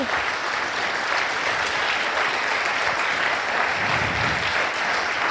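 A church congregation applauding during a sermon, dense continuous clapping filling the room at steady volume, with no speech over it.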